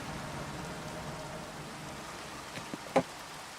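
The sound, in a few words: rain in the video game Minecraft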